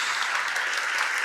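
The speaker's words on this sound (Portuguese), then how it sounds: "Dá um beijo na sua palavra e aplaude essa palavra de Deus." A church congregation applauding, a brief burst of dense, even clapping from many hands filling the room.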